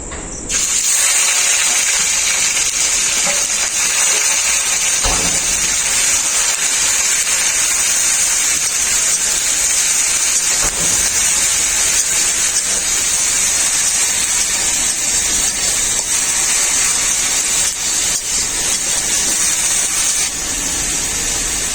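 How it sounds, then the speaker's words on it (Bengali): Grated white and purple onion hitting hot oil in a pan, a loud steady sizzling hiss that carries on unbroken for about twenty seconds with no talk. "এরপর ওই তেলেই দিয়ে দেবো গ্রেট করা পেঁয়াজ।"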